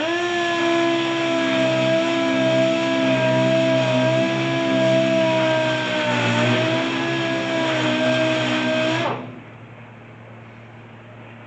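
Sanding a metal wheel tub for a 1972 Chevy C10 dually bed with 80 grit abrasive, a loud, steady, high whirring power-tool whine with rough grinding texture that stops abruptly, leaving quiet room hum and a brief word.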